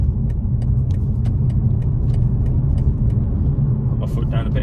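A steady low rumble of road and engine noise fills the cabin of a BMW 2 Series Gran Coupe while it drives, smooth and constant, with faint ticks on top and a brief sound near the end.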